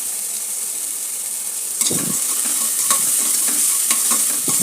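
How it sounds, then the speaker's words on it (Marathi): Onion fries in a pan for a village-style chicken curry, a steady loud sizzle running throughout, joined midway by the scrape and clatter of a spoon stirring, with no voices. "कांद्याचा रंग बदलेपर्यंत याला परतून घ्यायचा आहे"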